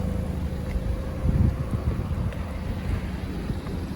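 A steady low rumble of an idling 2017 BMW X3 sDrive28i exhaust, close and loud, with some blustery wind noise over the microphone.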